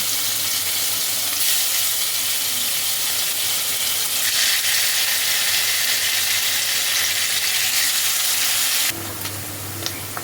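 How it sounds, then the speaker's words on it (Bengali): Pieces of paneer fry in hot white oil in a kadai, giving a loud, steady, close sizzle that runs without a break for about nine seconds and then drops to a softer hiss. "এই তেলের মধ্যে পনিরগুলোকে এক এক করে ছেড়ে এপিট ওপিট করে ভালোভাবে লালচে করে ভেজে নিতে হবে।"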